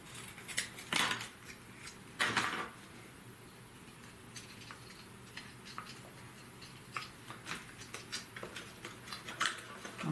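Tiny wooden slats for a miniature Japanese house are cut with small crisp snips and clicks, a couple of sharper cuts and then lighter ticking, close and quiet, with no one talking.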